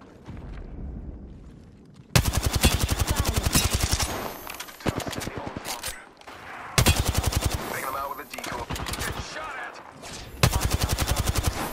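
Rapid automatic gunfire in the Apex Legends battle royale game, several long sustained bursts of fast, loud shots separated by brief pauses, with in-game voice callouts between them.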